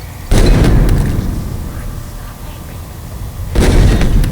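Grenades detonate in a Halo Infinite battle, two loud booming blasts a few seconds apart, each with a long rumbling decay.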